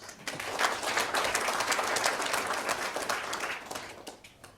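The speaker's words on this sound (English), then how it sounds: "could you please give them a round of applause?" Audience applause for panel guests at a university discussion, steady dense clapping filling the room for about four seconds before tapering off.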